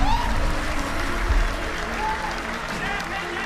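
A church congregation applauding, a dense steady patter of many hands clapping together, fairly loud and continuous throughout, with voices mixed in.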